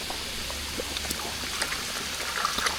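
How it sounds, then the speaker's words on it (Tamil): Tamarind water poured into a pot of sambar with partly cooked vegetables and lentils, a steady close trickling splash over a low background hum. "இப்போ லாஸ்ட்டாக புளி தண்ணி சேர்த்துக்கலாம்"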